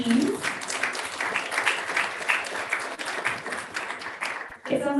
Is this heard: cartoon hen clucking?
no